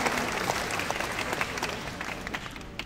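Fans at a baseball fan club Q&A event applaud, a crowd's steady clapping that holds for a few seconds and gradually thins toward the end.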